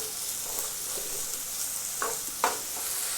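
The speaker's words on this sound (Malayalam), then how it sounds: "ആവശ്യത്തിന് ഉപ്പിട്ട് നമുക്കിന്ന് ഉള്ളി ഒന്ന് വഴറ്റിയെടുക്കാം." Shallots sautéing with salt in a hot pan give a steady, loud sizzle with a few scraping stirs of the spatula, close up and without any talking.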